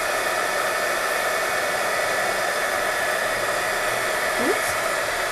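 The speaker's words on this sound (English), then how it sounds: "Now you can use the heat tool to speed up the drying and to also keep it from warping too much." A craft heat tool blows hot air steadily to dry a holiday craft piece, giving a loud, even whirring rush that carries on unbroken with no voices.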